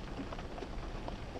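Steady rain falls during hurricane squalls, a dense, continuous patter heard from inside a stalled bus, with no talking.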